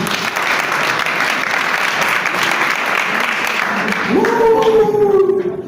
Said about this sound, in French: On applaudit pour Antoine l'intestin du crapaud.